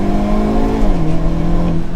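A 2023 Hyundai Kona N in push-to-pass mode accelerating, its engine droning loudly and steadily, with the tone dipping briefly as it shifts and then holding strong from inside the cabin.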